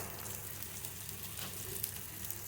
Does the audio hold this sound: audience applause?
no